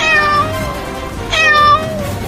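Cartoon cat meowing twice in quick succession, clear bright drawn-out mews with a short pause between, loud and close over faint background sound.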